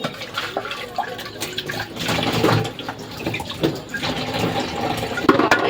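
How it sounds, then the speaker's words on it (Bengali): Kitchen items being washed under a running tap, a continuous splashing gush of water with irregular clatter and knocks of things handled beneath the stream. "তো দেখো আমি এগুলো ধুয়ে নিচ্ছি।"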